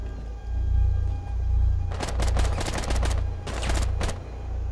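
Gunfire in Rainbow Six Siege on the Kanal map: several rapid bursts of automatic shots crack out close and loud over a steady low game rumble, with short pauses between volleys.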